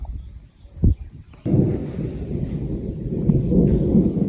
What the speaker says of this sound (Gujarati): વરસાદ ગાજે થોડો